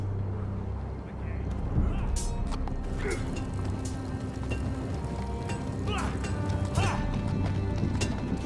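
Horse hooves clop at a steady gallop-like rhythm in a Game of Thrones Telltale video game scene, fairly close, over ambient noise and music with voices occasionally present.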